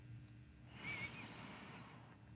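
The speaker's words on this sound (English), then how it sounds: "Breathing in through the nose" Slow inhalation through the nose during a guided breathwork exercise, a soft, airy breath swelling gently in the middle of the clip over a quiet background, with no talking.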